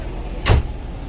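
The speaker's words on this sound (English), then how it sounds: "Let me shut this door behind us." A door shuts inside a 2005 Fleetwood Excursion 39L motorhome with a Cat diesel, giving a single short, solid thud close by in a quiet interior.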